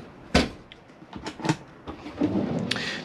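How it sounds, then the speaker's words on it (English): A storage drawer under the oven of a Chausson Welcome 640 motorhome slides and knocks shut, a few sharp thuds and rattles close by, separated by short pauses. "storage drawer underneath your oven"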